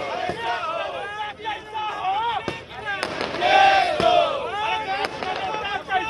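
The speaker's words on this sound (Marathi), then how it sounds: "भाजपकडून आता जल्लोष करायला सुरुवात झालेली आहे" BJP supporters celebrating the Bihar election result: a loud, chanting crowd with overlapping shouts and cheers, punctuated by sharp cracks like firecrackers, sustained throughout.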